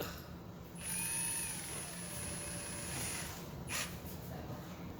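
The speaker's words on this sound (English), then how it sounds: "we are going to drill" A power drill with a small bit drills a hole in a tray, whining steadily for a few seconds at moderate volume, with a high-pitched motor tone over a broad grinding hiss.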